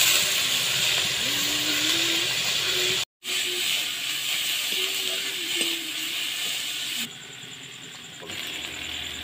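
Onion, ginger and garlic paste frying in oil in a pan, with a steady hissing sizzle, a brief break partway through, then a quieter sizzle toward the end.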